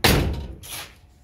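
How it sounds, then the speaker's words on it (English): Car door on a restoration project car slammed shut once with a solid, heavy thud, followed by a brief rattle and a fading echo, close and loud. "As you hear, the door slams pretty good."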